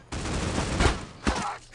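Super 90 shotgun fire in the mobile shooter Critical Ops, heard as a few loud booming blasts close together over a noisy game background.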